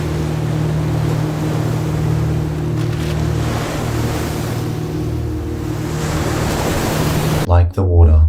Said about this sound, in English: Callum walks out into the crashing waves of the ocean, into what appears only as a pitch black abyss as the sounds of the waves take over.